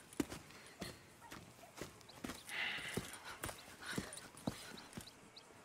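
Horse hooves clip-clop at a steady walking pace in Red Dead Redemption 2, each strike crisp and distinct, with faint rustling between steps.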